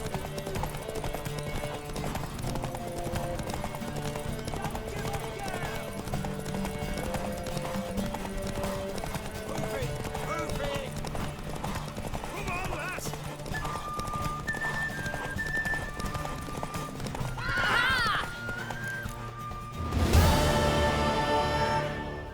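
A horse galloping in a race in The Witcher 3 video game, rapid continuous hoofbeats over background game music, with a brief whinny and a loud burst near the end.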